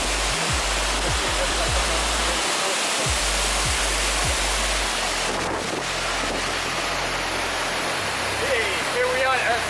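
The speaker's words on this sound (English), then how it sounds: "Here we are at Blue Falls in Costa Rica, a beautiful sight to behold." Blue Falls in Costa Rica, a waterfall with turquoise water among iron-oxide red rocks, pours as a loud, constant roar of rushing water, mixed with heavy wind buffeting the microphone.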